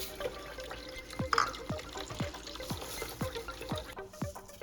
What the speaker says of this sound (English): Add 2 cups of rice to a fine mesh strainer and give it a good wash.